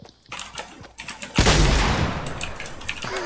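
Gunfire in a shooter video game: scattered sharp shots followed by a loud sustained burst of rapid fire that rings out and decays, with more crisp shots trailing after, close and prominent.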